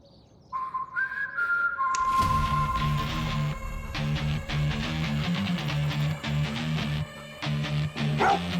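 A dog barks repeatedly during a tense crime-drama scene, the rhythmic barks loud and close over tonal whistling and a musical score.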